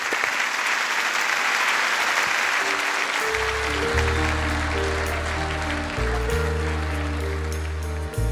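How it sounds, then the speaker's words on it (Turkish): Studio audience on a Turkish music show breaks into loud, sustained applause that continues throughout, while a low bass line and a band's music come in under the clapping after about three seconds. "Alkışlar hazırlar."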